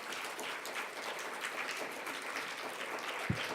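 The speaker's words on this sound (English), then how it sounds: "please join me in giving Zahida and the team a round of applause" Audience applause at a journalism forum for an organiser and her team, steady and moderately distant crowd clapping throughout, with a single sharp thump near the end.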